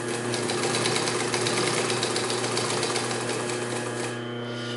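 A Singer 31-15 industrial sewing machine fitted with a size 18 needle runs continuously, a loud, close, steady rapid clatter that keeps a constant rhythm throughout.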